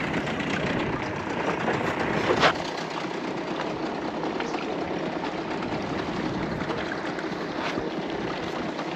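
A small aluminium tinny's outboard motor idles in very shallow water around the Dampier Islands, a steady, even engine drone running unbroken throughout, with a brief louder bump early on.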